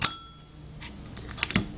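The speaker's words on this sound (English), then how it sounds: "So now I'm gonna put my finger over the bell and I'm gonna do it again." A single ding from an old drug store bell being restored, struck while a finger presses on the bell so the ring dies away quickly, followed by a few soft clicks and taps of the mechanism.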